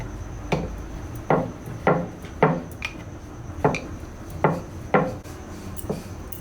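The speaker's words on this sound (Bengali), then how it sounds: "এটা এখন আমি বেলে নেব।" A rolling pin working rice paratha dough on a board, a steady series of soft wooden knocks and rubs repeating roughly every second, close and quiet.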